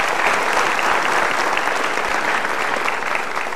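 Studio audience breaking into dense, sustained applause, many hands clapping loudly and evenly throughout at a TV talk show.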